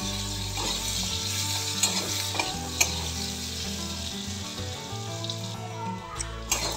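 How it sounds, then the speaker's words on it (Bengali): Potatoes seasoned with salt and turmeric fry gently in a pan on low heat, giving a steady, close sizzle with occasional soft clinks and stirring scrapes throughout. "আলুটা লো হিটে ভাজা হচ্ছে"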